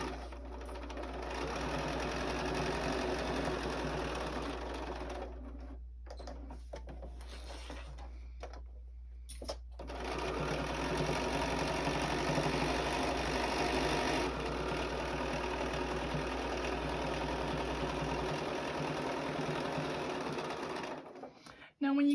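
Sewing machine stitching a fabric journal cover, running in long steady bursts with a brief pause of short stops and starts midway, close and loud; a voice talks over the motor hum.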